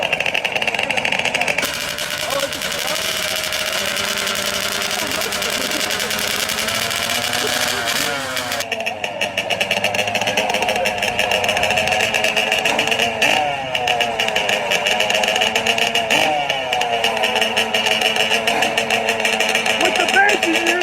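ATV engines at a drag race, including a 650cc Banshee and a 4-stroke quad, roaring and revving loudly and continuously with rising pitch sweeps, while an announcer talks over them.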